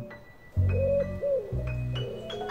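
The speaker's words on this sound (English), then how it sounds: "A pigeon cooing." Soft, low pigeon coos repeating in a gentle rolling rhythm, close by, with a few faint higher chirps in the background.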